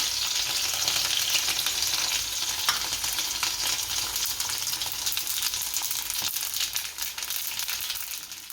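Chillies and sesame seeds drop into hot oil for a tempering over besan rava dhokla, a loud dense crackling sizzle that holds steady and close, with faint stirring clicks and no talk.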